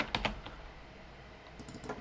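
Keystrokes on a computer keyboard: a quick burst of several clicks at the start, then scattered lighter taps later, close and clear with no talking.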